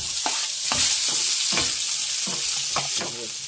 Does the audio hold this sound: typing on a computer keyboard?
no